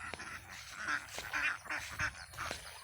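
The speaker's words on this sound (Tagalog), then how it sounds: "Mga bibi naman ato na yung iba nung itong mga duck farm." Ducks at a duck farm quack repeatedly in quick, uneven bursts, several calls overlapping at moderate distance, fairly faint overall.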